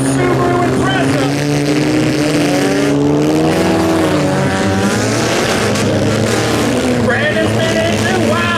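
Manual Subaru Impreza stock mini car in a demolition derby at Orangeville, engine droning and revving loudly and steadily under an announcer's voice over the track noise, with a faint crash of impacts.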